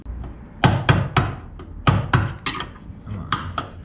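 A screwdriver is hammered to break a door part out of a 1989 Foxbody Mustang GT, giving a series of sharp, close metallic strikes in uneven bursts with short pauses between.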